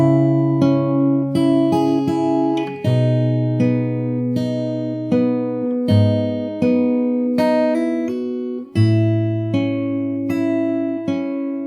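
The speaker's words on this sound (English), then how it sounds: "So if you play the whole intro really slow, it sounds like this." Slow fingerstyle acoustic guitar picking through the intro of a song, with steady plucked notes ringing over low bass strings, close and clear with no talking.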